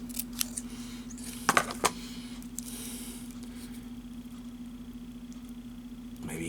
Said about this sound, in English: I just take scissors and make just a whole bunch of little